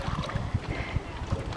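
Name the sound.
kayak paddle stroke in water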